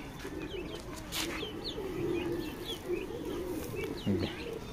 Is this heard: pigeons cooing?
yes